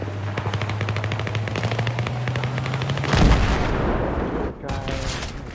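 Rapid machine-gun fire rattles close and loud in a video game battle, followed by a heavy boom and continued shooting, with brief speech mixed in.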